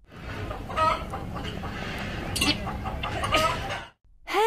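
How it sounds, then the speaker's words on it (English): A hen clucks in short, close bursts of a few notes each, with a brief gap near the end before one more cluck begins. "Hen."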